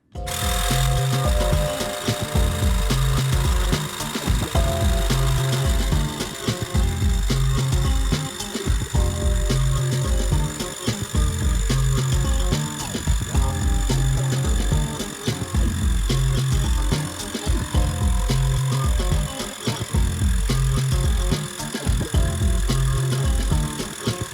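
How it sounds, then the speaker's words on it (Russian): Xiaomi Mijia portable electric pump running steadily to inflate a tyre, a loud, buzzy motor drone with a regular pulsing rhythm of its piston strokes, heard close and alone. "Начинаем накачивать."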